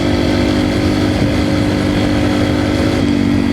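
A dirt bike engine running steadily, a loud buzzing drone with slight shifts in pitch as the revs change, close and continuous with no talk.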